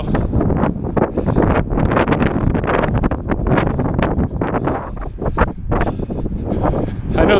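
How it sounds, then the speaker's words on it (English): Strong wind buffets the microphone during an outdoor barefoot marathon, loud gusty rumbling that surges and fades in uneven waves, close and constant the whole time. "I know the wind is pretty strong right here."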